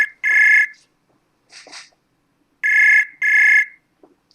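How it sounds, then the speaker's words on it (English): A loud electronic ringtone from an incoming call on a laptop, sounding in repeated double bursts with short silent gaps between them, clear and close with no talking. "It's probably pretty loud ringing for everybody."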